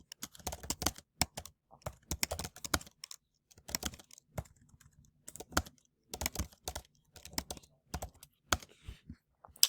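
Quick, uneven bursts of clicks come from typing on a computer keyboard, close and clear, with short pauses between runs of keystrokes.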